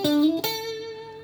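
Guitar playing a short combo pentatonic phrase, two quick plucked notes, the second left ringing and slowly fading, heard close and alone.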